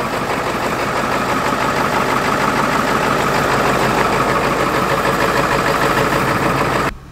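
A V8-swapped Volvo engine idles steadily just after a cold start, a loud continuous low rumble with a slight knocking chug that holds even for about seven seconds before cutting off abruptly.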